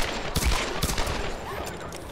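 Gunfire in the Tomb Raider video game: a few sharp, punchy shots around the first second over a steady, noisy game backdrop, fairly loud and close, with no talk.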